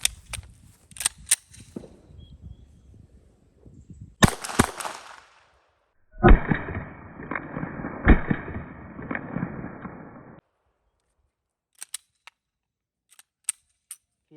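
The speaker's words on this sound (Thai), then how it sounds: "ตัวเดิมจะยิงจำนวน 2 นัด" A Glock 19 pistol with its recoil guide rod spring being replaced, fired in a test: two loud, sharp shots a couple of seconds apart, with a noisy stretch after the second, surrounded by scattered small handling clicks.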